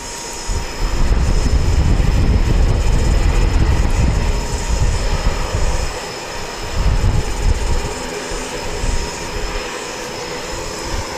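An ATR turboprop airliner, registration ZK-MVZ, arriving from Hamilton at Wellington Airport, produces a loud, deep engine roar that swells, dips around the middle and rumbles on at a slightly lower level.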